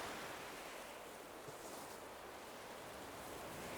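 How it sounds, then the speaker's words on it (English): Waves breaking on a shore in Animal Crossing: New Horizons, a soft continuous wash of surf and wind, low and even with no talking. "The waves breaking as the wind chases them ashore."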